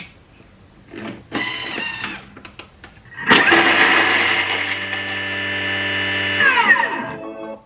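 An electric mixer or blender whirs loudly and steadily for several seconds while mixing ingredients for a birthday recipe, after a few brief clatters, then winds down at the end.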